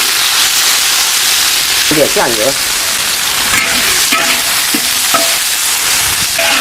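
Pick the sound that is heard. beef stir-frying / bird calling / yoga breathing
beef stir-frying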